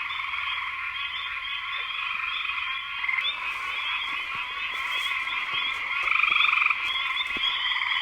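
A loud chorus of pine barrens tree frogs, gray tree frogs, Fowler's toads, carpenter frogs and spring peepers calls continuously, overlapping trills and buzzy notes, with one nearby caller growing louder near the end.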